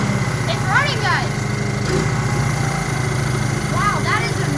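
A restored 1986 Honda Fourtrax ATV engine idles with a steady, close, rapid mechanical putter, while people talk over it.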